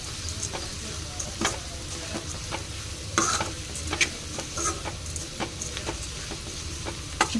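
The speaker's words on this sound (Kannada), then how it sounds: "ನಂತರ ಇದಕ್ಕೆ ಒಣಮೀನು ಹಾಕ್ಕೊಂಡು ಬಾಡಿಸ್ಕೋಬೇಕು" Dried fish sautéing and being stirred in a pan for a dry fish stir-fry, with a steady close sizzle and repeated scraping strokes of the spoon at an irregular rhythm, and no voices.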